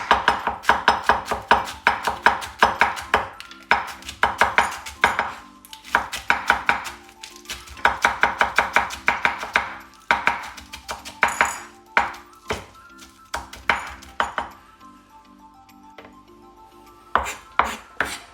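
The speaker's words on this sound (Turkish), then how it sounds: "Şimdi marullarımızı yine aynı şekilde çok küçük şekilde doğrayacağız." Rapid rhythmic knife chops finely cutting lettuce on a cutting board, crisp repeated strikes in quick bursts with short pauses, close and loud.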